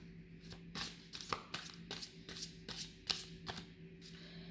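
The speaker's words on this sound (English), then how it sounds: "one reshuffle and then clearing the cards." A deck of tarot cards being reshuffled: a quick run of soft riffling snaps and slaps at an even pace, close and quiet against a faint steady hum.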